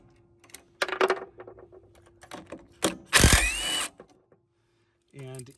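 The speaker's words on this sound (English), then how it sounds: "What you have to do is take these two bolts out." Bolts come off a Honda Harmony mower carburetor with brief ratchet or driver bursts and metallic clicks, close by and intermittent. One louder buzzing burst stands out, with a short voice at the end.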